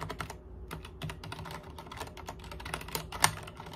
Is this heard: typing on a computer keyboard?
yes